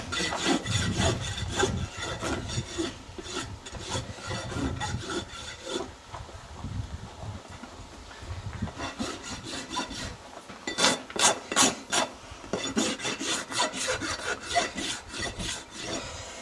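A farrier dresses a horse's hoof with a rasp, and strokes scrape back and forth in bursts, loud and close. The rhythm is uneven, with short pauses between runs of rasping, and no one speaks.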